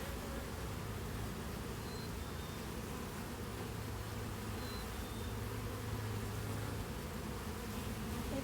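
Honey bees buzz around an open hive being split, a dense, continuous drone that stays steady and close throughout with no talk.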